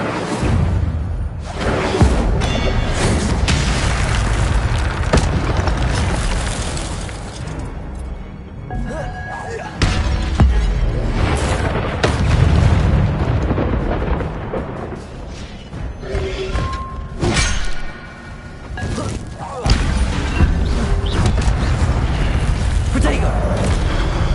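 Incendio fire spells cast repeatedly in Hogwarts Legacy, loud booming fiery bursts and whooshes amid crashes and thuds of combat, with voices speaking over parts of the action.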